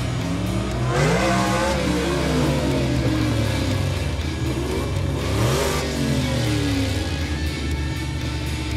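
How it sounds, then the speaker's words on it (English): A racing car accelerates and revs hard, its engine pitch sweeping up in two distinct surges, loud and close, with no talking. "Racing Car."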